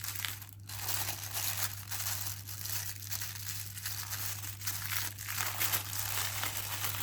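Wrapping paper crinkles and crumples continuously at close range as it is folded around a present, with soft rustling, a few sharper creases and a steady low hum underneath.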